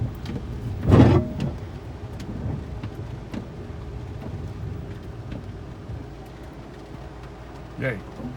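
A low-slung car rolls over gravel and small pebbles on a wet road in the rain, with one loud crunching bump early and a smaller one near the end over a steady rumble of driving.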